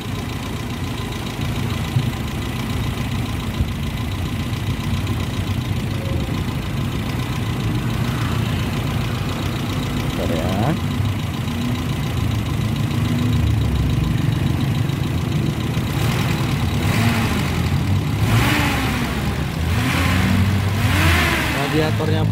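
A 1990 Toyota Kijang Super KF50 engine runs steadily at idle, then is revved in several rising and falling bursts toward the end, close and loud, with someone talking over it.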